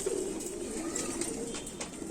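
An Indian Rampuri pigeon coos in a low, continuous murmur close by, its soft throaty rolling tone steady throughout without pause.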